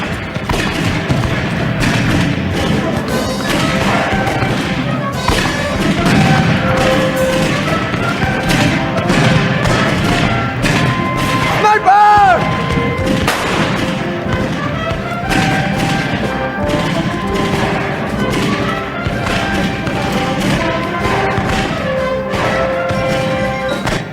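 A sustained, dense volley of staged gunfire in a Les Misérables stage production, rolling thuds and bangs layered under loud orchestral music, continuous and heavy throughout with no distinct pauses.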